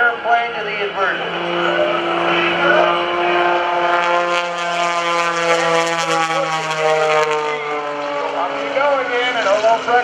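An aerobatic propeller plane's engine drones steadily with a rising and falling pitch as it rolls and manoeuvres at an airshow, loud and continuous with a faint voice underneath.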